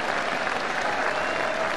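A home football crowd at an FA Cup tie between Plymouth Argyle and Derby County applauds at half-time, with steady, dense clapping filling the whole stretch at an even level and no voices standing out.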